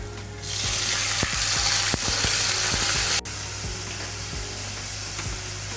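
Onion, garlic and chili fry in oil on low heat, a steady close sizzle broken by sharp clicks and taps of a utensil against the pan.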